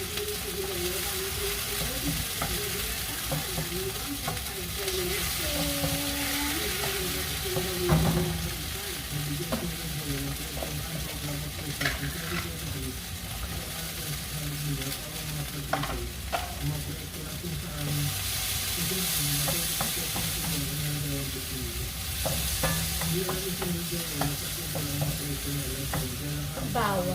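Garlic and then onions sautéing in a pan, a continuous sizzle with scraping stirs throughout, alongside a voice speaking and some background noise.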